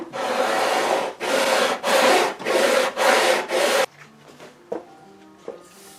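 Sandpaper rubbing surface oxidation off the frets of a Gibson L48 guitar, six loud rasping back-and-forth strokes in steady rhythm, then a quiet stretch with a few small knocks and handling sounds.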